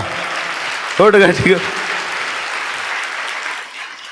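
An audience claps in a burst of applause during a church sermon, loud and close, with a preacher's voice briefly rising over the clapping before it settles.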